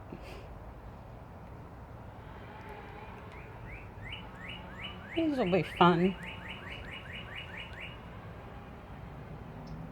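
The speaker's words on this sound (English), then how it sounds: "You hear the birds chirping." Birds chirp outdoors on a sunny day in a rapid series of thin, repeated notes in the middle distance, with one louder, closer call briefly cutting through and a person speaking softly nearby.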